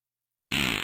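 A fart sound effect called the fly swatter fart: one short, loud, buzzing burst that starts abruptly after silence and cuts off under a second later, with no voices.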